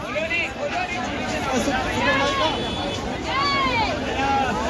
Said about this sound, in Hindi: दिख रहा किस तरह से यहाँ पे भीड़ है